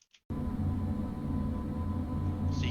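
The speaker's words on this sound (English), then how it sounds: "that is the sound of speech being stretched and then reverbed at the same time" A smeared, droning wash of speech stretched and reverbed in Audacity holds steady for a few seconds after a brief clipped blip at the start.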